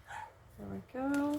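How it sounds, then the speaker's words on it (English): A small Yorkie barks in the background a few times, short and fairly faint, while a person speaks briefly nearby. "Sorry if you can hear my daughter's dog barking in the background."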